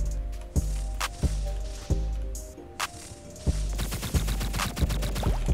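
Gunfire from the video game Flag Wars: spaced single shots pop at a steady interval, then a rapid crackling burst of fire follows near the end, with faint game background throughout.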